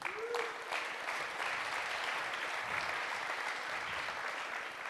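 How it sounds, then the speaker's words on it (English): Steady applause from an audience at a conference celebrating a building's 125th anniversary, a continuous even wash of clapping heard at a slight distance, with a brief rising tone near the start. "So a big hand of applause for the birthday of this building"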